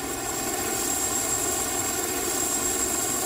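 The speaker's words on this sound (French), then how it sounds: "L'hélicoptère, c'est le moyen de transport que l'on utilise le plus pour venir sur les plateformes." A helicopter flies toward an offshore oil and gas platform, heard as a loud, steady, unbroken engine and rotor drone with a high whine on top, close and constant throughout.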